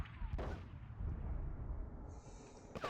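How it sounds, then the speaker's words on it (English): Muffled booms and rumbling blasts from grenades and mines in the video game Conker's Bad Fur Day, dense and continuous low rumble with a sharp crack near the start and end, moderately quiet. "I can't even strafe fast enough to get out of the range of the mines or grenades"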